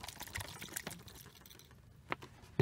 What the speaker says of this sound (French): je vide ça dans ma petite passoire